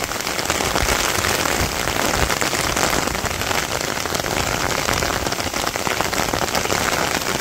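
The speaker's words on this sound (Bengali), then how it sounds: "এই চকের মধ্যে বৃষ্টিতে দাঁড়িয়ে বৃষ্টি দেখা সেই একটা আনন্দ, কিন্তু প্রচুর বাতাস আইসা পড়ছে" Heavy rain driven by strong wind sweeps across an open village field in rural Bangladesh, a dense, steady roar of downpour and gusts that stays loud and unbroken throughout, with no voices.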